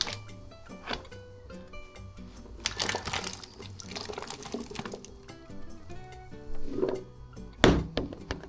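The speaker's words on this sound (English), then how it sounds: "my water is boiling, so let me add this potato" A potato dropped into a pot of boiling water in a home kitchen, a sharp splash and thunk near the end following earlier clattering and bubbling, close and fairly loud.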